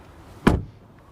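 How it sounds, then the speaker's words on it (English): A 2023 Mercedes GLC 300 AWD SUV door shuts with a single solid, close thud that fades quickly into quiet. "Then the door closing sound"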